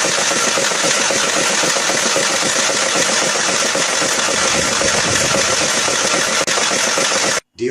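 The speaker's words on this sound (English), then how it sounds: "all it's doing is it's just rotating on the starter motor only" A Peugeot 307 from 2011 cranks on its starter motor without firing, a steady loud churning drone that runs continuously for about seven seconds before stopping abruptly near the end.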